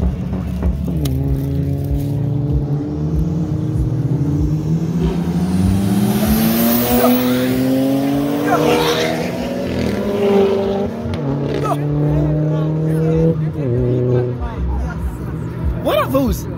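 Cars racing at a night street race, engines revving and accelerating past with rising and falling pitch and squealing tires, loud and close amid crowd chatter and shouts.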